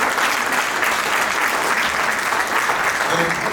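Audience at a Nikola Tesla 170th anniversary celebration in Ottawa breaking into a dense, even round of applause that holds steady throughout, close and full.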